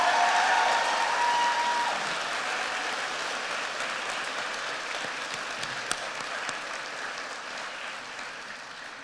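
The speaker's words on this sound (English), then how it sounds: "Would you please give these students a round of applause for their wonderful" A large audience applauds students at a high school commencement, steady broad clapping that starts strong and gradually tapers off over several seconds.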